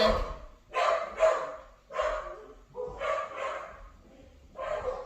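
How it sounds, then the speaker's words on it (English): Dogs bark indoors in short repeated bursts, about five loud volleys spread evenly across the moment, with no talk over them. "don't mind my dogs"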